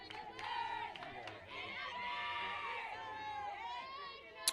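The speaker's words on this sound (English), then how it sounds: "got a nice crowd here at the softball stadium." Crowd noise fills a sunny college softball stadium during a Miami RedHawks vs Northern Illinois Huskies game, with a steady murmur of many voices, scattered shouts and children's calls at moderate level, and a brief sharp sound at the end.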